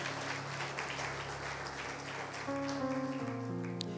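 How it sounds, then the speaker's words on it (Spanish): A church congregation applauds through a Spanish-language Sunday morning service, a continuous patter of hands under sustained organ-like keyboard chords that shift partway through. "Denle un aplauso a Dios en esta mañana."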